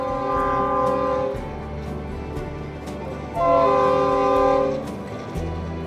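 A train horn blasts twice, loud and close, in long sustained blares over a steady rail rumble, heard while riding near Lake Okeechobee in Florida.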